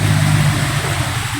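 A motorcycle engine runs loud and close at a steady idle, its low rumbling tone holding constant throughout with no clear revving.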